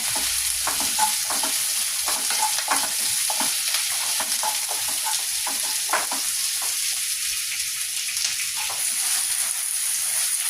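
Square-cut onions and green chillies fry in a pan for chilli chicken, with a steady bright sizzle broken by repeated scraping stir strokes; no one speaks.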